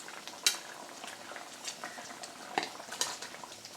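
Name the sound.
brinjal pieces added to boiling tamarind gravy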